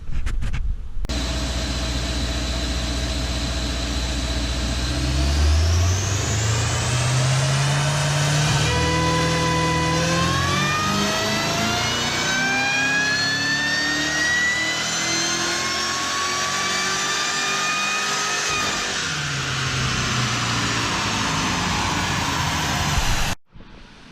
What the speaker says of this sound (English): near as makes no difference wide open throttle pulls to start dialing in the higher end of the virtual VE table